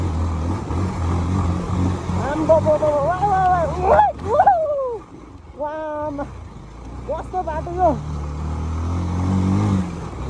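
An older-model Bajaj Pulsar 200 motorcycle rides a dangerous off-road mountain track above Chyalti, its engine a steady low rumble running under continuous nearby talk.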